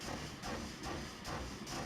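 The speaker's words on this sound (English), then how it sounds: "You can hear it really working hard to pull those tanks along." Freight train engine hauling tank cars in the Transport Fever video game, a steady loud rumbling chug with rhythmic pulsing beats, heard alone without talk.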